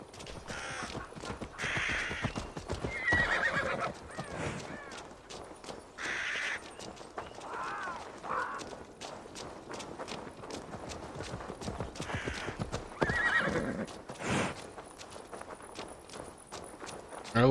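Horse hooves in the video game Assassin's Creed Valhalla clip-clop steadily at a trotting pace, with crows cawing now and then over a dense outdoor background.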